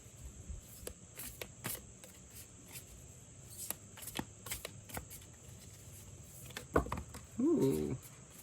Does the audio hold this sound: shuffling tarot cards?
yes